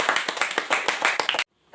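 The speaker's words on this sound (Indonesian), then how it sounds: "Tepuk tangan untuk" Clapping from a classroom audience after group presentations, a quick burst of dense claps lasting over a second, then cutting off abruptly into near silence.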